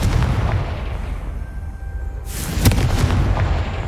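A Confringo blasting spell in the Hogwarts Legacy video game goes off with a sharp bright burst and booming impact, preceded by rumbling game ambience and followed by a few smaller pops.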